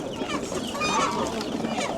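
Chickens and roosters at the Sabunchu poultry market cluck and call close by, a busy, overlapping clamor of fowl voices with faint market background.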